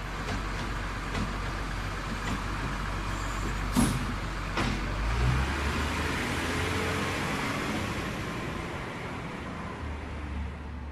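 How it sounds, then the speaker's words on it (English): A garbage truck rumbles nearby with a steady heavy engine drone, punctuated by a couple of sharp air-brake hisses and clanks. "Garbage trucks then haul it off to the city dump."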